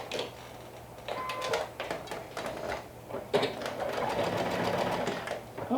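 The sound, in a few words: sewing machine stitching sleeve side seam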